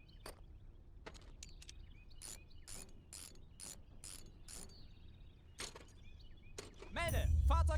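In the World War II strategy game Call to Arms - Gates of Hell, a soldier repairs a vehicle with a repair kit: a sequence of sharp metallic clanks and ratcheting clicks, then a rumbling burst of engine-like noise at the end.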